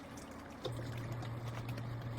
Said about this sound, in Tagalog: Lagyan natin ng toyo.